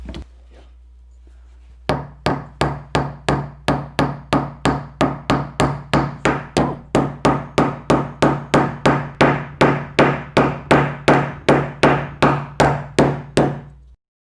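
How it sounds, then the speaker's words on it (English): After a short quiet moment, a hammer pounds a long nail into a wooden toy airplane kit rapidly and steadily, dozens of sharp wooden knocks in an even rhythm, close and loud. "we're going to hammer it in with the long nail."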